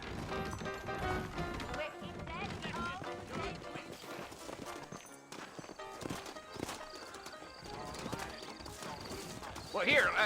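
Horse hooves clip-clop in a Western setting in the Red Dead Redemption video game, with steady footfalls and an occasional whinny under ongoing character dialogue and background game sound.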